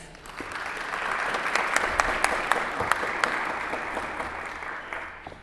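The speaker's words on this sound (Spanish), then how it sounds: "les pido un fuerte aplauso para ellos" A studio audience gives steady, moderate applause to welcome guests on a Spanish-language podcast, with dense clapping that rises, holds for several seconds and then fades.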